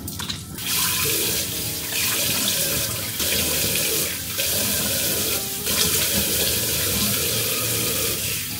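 A bathroom tap runs steadily for face washing. A continuous loud hiss of splashing water fills the whole stretch, with brief shifts where hands interrupt the stream.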